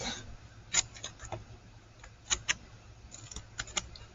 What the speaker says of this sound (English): what I'm going to do is just snip